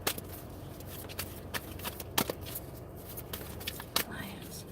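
Tarot cards being shuffled and pulled for a reading, with soft riffling and scattered sharp card snaps and slaps, fairly quiet and close, with light breathy sounds in the background.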